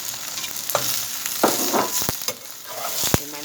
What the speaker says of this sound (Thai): ผัดผัดให้ผักกาดดองมีกลิ่นหอมออกมาก่อนนะคะ